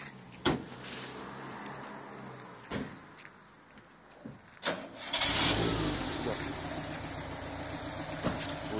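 A retro car's engine cranks and catches in a rural village, with a few sharp knocks and clunks first, then a loud burst as it starts, settling into a steady running rumble nearby.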